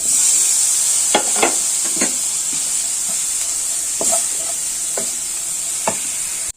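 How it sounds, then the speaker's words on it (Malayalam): Tomatoes sauté in spiced masala in a pan for a thick-gravy egg curry, hissing in a steady sizzle while a spoon scrapes and taps against the pan in scattered strokes. "ഇതിനകത്തോട്ട് നമുക്ക് തക്കാളി വാട്ടിയെടുക്കാം"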